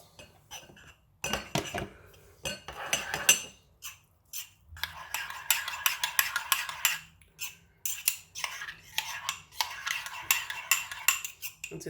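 A spoon clinks and scrapes against a cup while coconut milk powder is stirred into warm water, in quick, uneven bursts of metallic clatter separated by brief pauses, close and fairly quiet.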